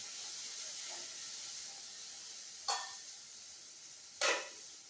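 Sardines going into a hot pan bring a steady frying hiss, broken twice by sharp, brief bursts of louder sizzle as pieces hit the oil, no voices.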